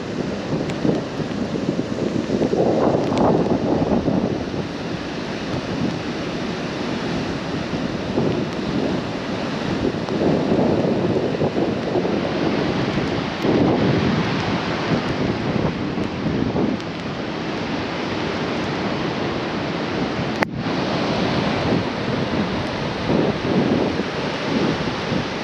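Storm waves crash and roll along the Vancouver Island coast under strong wind, a loud, continuous roar with repeated surges of surf and wind buffeting the microphone.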